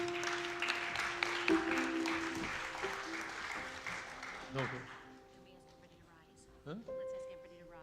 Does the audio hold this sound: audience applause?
yes